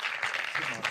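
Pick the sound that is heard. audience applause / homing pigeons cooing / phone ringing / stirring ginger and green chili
audience applause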